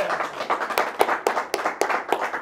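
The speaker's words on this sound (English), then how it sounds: "Gentlemen, give yourself a round of applause." A small group of men give themselves a round of applause, the claps falling in a steady, rhythmic pattern at close range and holding an even pace throughout.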